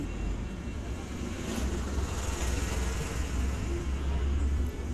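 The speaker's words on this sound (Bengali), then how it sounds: "ব্যাকগ্রাউন্ডে যে আওয়াজ হচ্ছে ভাইয়া প্রচণ্ড খারাপ ভাইয়া, মানে গাড়ির আওয়াজ" Constant low roar of road traffic, vehicles droning steadily in the background without a break.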